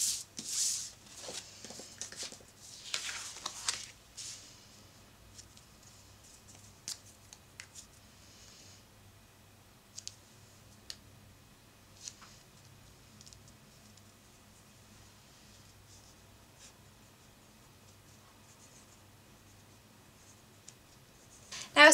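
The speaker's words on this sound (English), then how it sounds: "I'm going to go ahead and write all the way across and just stop when I get to the title." A pen scratches across lined paper in a scrapbook layout, with soft strokes and light taps that are busier at the start and then quiet, close and under a low room hum.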